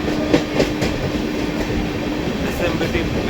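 The Aranyak Express overtakes the SMVT Bengaluru–Howrah Express on a parallel track, producing a loud, continuous rumble of train wheels with rhythmic clicks and clacks close by throughout.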